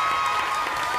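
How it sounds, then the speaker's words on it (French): A studio audience at a French game show applauds departing contestants; a brief, dense burst of crowd clapping with some cheering mixed in, steady and close for about a second. "On vous applaudit très fort, vous avez été des candidats formidables."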